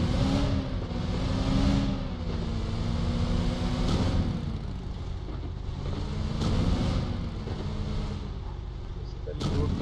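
A car engine from the Miramar map in the mobile game PUBG Mobile drones and revs in waves under someone talking, with wind rushing past throughout.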